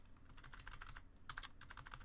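Code being typed on a computer keyboard while programming an SFML dodge game, a quick run of soft, fairly close keystrokes in two bursts with one sharper click, no talking.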